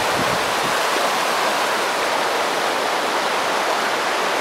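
Clear Creek's rushing water pours in a steady, loud, broadband roar, close by and continuous with no voices over it.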